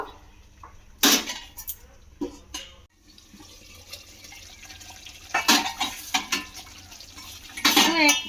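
Metal lid and pot clatter while covering a pot of Afghani egg curry gravy with a lid: a sharp clang near the start, softer clinks, then two more bursts of rattling near the end, close and fairly loud.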